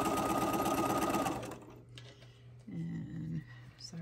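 A sewing machine runs steadily as it stitches fabric pieces right sides together onto a 2.5-inch strip with a quarter-inch seam, then stops, leaving quieter handling sounds.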